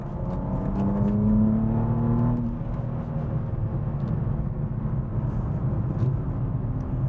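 A manual car accelerates on a country road to overtake an Audi, its engine note rising through a long pull, then settling into a steady whir and road noise, heard from inside with no talk.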